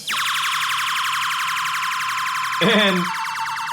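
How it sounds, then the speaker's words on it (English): A synthetic siren sound effect from a Pioneer DDJ-SZ DJ controller sweeps slowly downward in one long glide, then jumps up and wobbles briefly before falling again, loud and electronic. "You have a siren."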